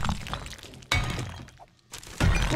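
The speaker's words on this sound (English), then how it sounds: "I'm going to dismantle the bunk beds for tubes so we can make some pipe bombs." Bunk beds being dismantled for tubes in 7 Days to Die: a few close crunching, shattering breaks with thunky impacts, separated by brief pauses.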